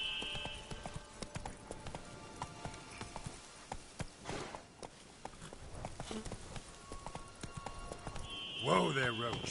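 Hoofbeats of a horse named Roach clip-clop steadily through a PS4 video game, layered with game sounds, and a voice comes in near the end.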